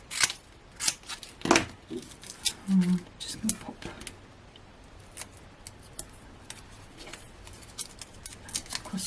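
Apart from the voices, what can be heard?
scissors cutting craft material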